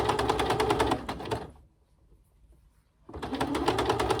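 A sewing machine stitches fabric and lace with a fast, steady whir, then pauses briefly into near silence before the stitching starts up again at the same close, loud level.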